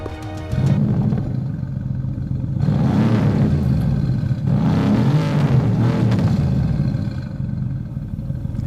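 A Mercedes-AMG GT R with a 4-litre biturbo V8 starts with a sharp bark, then revs loudly in several deep, roaring surges that rise and fall before settling, heard close with no talking.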